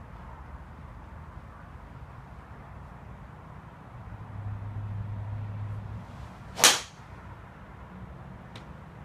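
A single sharp, loud impact of a TaylorMade M1 driver with a 10.5-degree head and Fubuki J 60-gram X-Flex shaft striking a golf ball outdoors, a crisp crack standing out over steady background noise, followed by a faint second tick.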